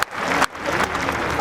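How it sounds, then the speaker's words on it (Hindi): Loud, continuous clapping from a large crowd at an open-air political rally in Khambhalia, Gujarat, dipping briefly before swelling again and carrying on steadily. "एक बार जोरदार तालियां पूरी खंबालिया बैठक के लिए बजा दीजिए"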